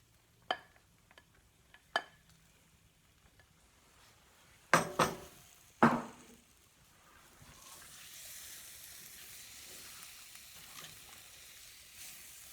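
Chicken and thawed frozen mixed vegetables mixed in a pan, with a few sharp clinks and scrapes of a utensil against the pan, then a soft steady sizzle that rises near the end.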